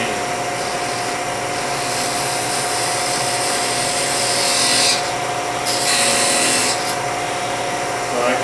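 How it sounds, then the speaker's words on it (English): A lathe spins a wooden ring while a parting tool scrapes and cuts into it, giving a steady, close whirring hiss broken by brighter rasping bursts of the cut, with no talking. "use the side of the parting tool here just a little bit to cut / scrape"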